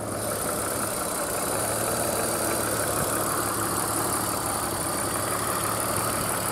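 Idling 3.0-litre engine of a BMW E46 330i, a steady, even low rumble holding at constant loudness throughout, close by with no voices.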